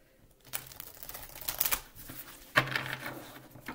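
Two quick bursts of card shuffling, riffling close by with soft clicks and flutters, separated by a short pause, no talking.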